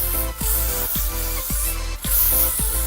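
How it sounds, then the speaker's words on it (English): L'Oreal hairspray hisses out in several close, breathy bursts onto hair, each spray a short airy rush separated by brief pauses. "one final spray of my L'Oreal hairspray"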